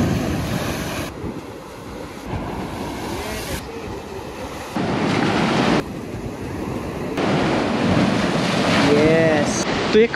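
Sea waves crashing and surging at Harihareshwar beach on the Konkan coast of Maharashtra, a loud continuous roar that swells and drops in abrupt stages, with heavy wind buffeting the microphone.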